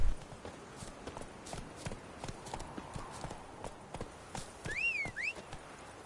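Hooves of a horse in The Witcher 3 video game clip-clop in a steady walking rhythm, fairly close, with a brief whistle-like tone near the end.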